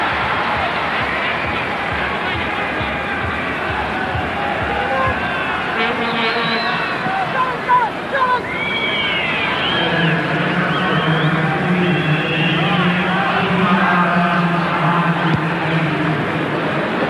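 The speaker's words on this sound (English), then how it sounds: "The crowd trying to urge their team on." A football stadium crowd at an Australia versus Canada World Cup qualification play-off, a constant roar of voices and chanting swelling louder in the second half, with a commentator speaking over it.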